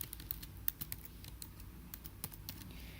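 Quick, light keystrokes on a computer keyboard at a command line, tapping in an uneven rhythm with a few sharper clicks, close and fairly quiet with no talking.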